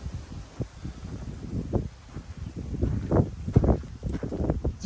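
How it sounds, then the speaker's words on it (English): Wind gusts across an outdoor spot beside a short back rail buggy, with buffeting and rustle pulsing in uneven surges, moderately loud and without voices. "Apologize for the wind."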